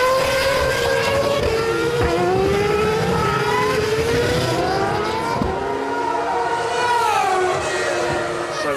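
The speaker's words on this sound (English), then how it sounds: "the cars coming across the start-finish line for a curious start to this Japanese Grand Prix" Formula 1 cars cross the start-finish line at Fuji for the 2007 Japanese Grand Prix behind the safety car, engines droning loudly and continuously with rising and falling pitch sweeps as cars file past.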